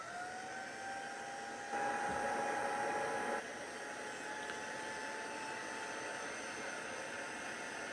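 A hand-held heat dryer blowing over a handmade stamped card, a steady airy whir with a thin tonal whine, briefly louder for a moment as it is angled closer, no talking.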